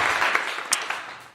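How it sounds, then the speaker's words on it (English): Brief clapping offered in praise during a Father's Day talk, a short, soft burst with a couple of sharper claps that tapers off after about a second. "Let me give you a clap for that."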